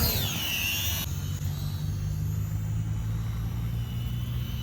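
A small Holy Stone HS280 quadcopter drone whines up and then holds a steady buzzing hum, with low wind rumble throughout in heavy wind; no one speaks.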